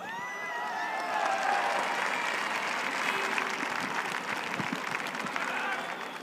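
A crowd at a Cork hurling club function breaks into sustained clapping, a thick wash of applause with some murmuring and cheering, lasting several seconds at a fairly close, even level.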